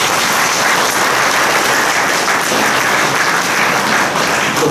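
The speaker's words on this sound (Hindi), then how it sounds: "ताली बजा के" An audience in a lecture hall claps steadily, a loud, sustained wash of applause with no talking over it.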